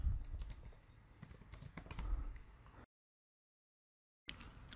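Rapid clicking keystrokes on a computer keyboard as a website address is typed, close and crisp, broken by a short silent gap before typing resumes.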